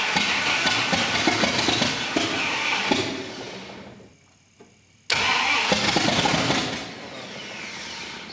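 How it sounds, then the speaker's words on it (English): A 1958 Plymouth barn find with a newly fitted engine cranks hard and loud and tries to fire, falls quiet for about a second, then cranks again with the same churning rhythm. "So it's wanting to crank,"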